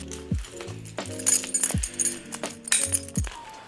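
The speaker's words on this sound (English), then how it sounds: "my standard stuff is my keys. I'll pull out my keys." Keys pulled from a pant pocket, a close flurry of metallic jingles and clinks in scattered bursts, bright and quick, with soft thumps of handling and no speech.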